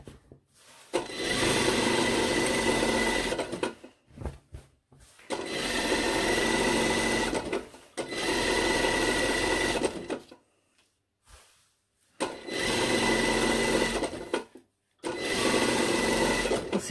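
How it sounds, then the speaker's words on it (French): Sewing machine topstitching the centre back seam of a lined jacket, steady close mechanical whirring in four or five long runs separated by short silent pauses. "Donc je vais surpiquer ma couture milieu dos."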